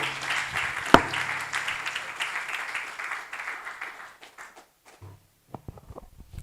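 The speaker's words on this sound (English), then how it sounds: "can we have another round of applause for the Executive Director, University of Lagos Business School" Audience applause at a dialogue series event at the University of Lagos Business School, steady clapping from a crowd that fades out over several seconds, followed by near-silence and a few scattered sounds.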